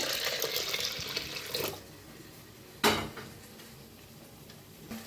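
Hot water runs and splashes steadily into a pot of thick cooking dal for a moment, then stops, followed by a single clink of metal and quiet kitchen background.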